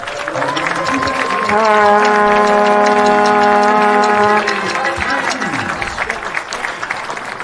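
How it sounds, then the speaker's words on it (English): A crowd at an Illinois Wesleyan college football game applauds the senior class with steady, sustained clapping and cheering, while a loud horn blares over it for several seconds. "please provide one final round of applause for the entire senior class"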